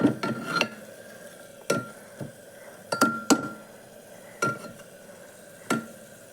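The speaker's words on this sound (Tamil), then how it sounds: "அந்த பேஸ்ட்டு கொஞ்சம் சேர்த்து நல்லா கலந்து கொடுங்க" Ginger-garlic paste is stirred into onions in a pan, a spoon scraping and clinking against the metal in short, irregular strokes over a faint sizzle.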